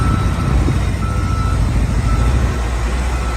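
A LiuGong 835H wheel loader works at a site in Lopburi: a heavy, steady diesel rumble with a faint, continuous reversing beep running over it throughout, close and loud, with no voices.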